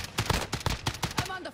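Gunfire in a video game: a rapid string of sharp shots in quick succession, fairly loud and close, firing in an uneven rhythm for over a second before trailing off.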